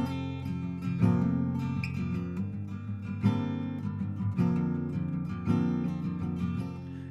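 Acoustic guitar in a lowered alternate tuning, fingerpicked chords ringing with rich overtones, played close and clear with steady strummed accents and no voices.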